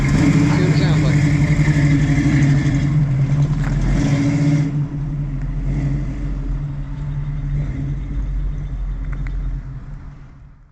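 A Ford Mustang engine fitted with new mufflers rumbles loudly and close up with a deep, steady exhaust drone. The level eases midway and holds at a slightly lower, even idle-like rumble before fading at the end.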